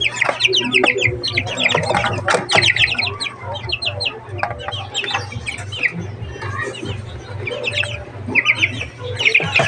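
Chickens clucking and chirping continuously, several birds close by, with a steady low hum underneath and faint voices in the background.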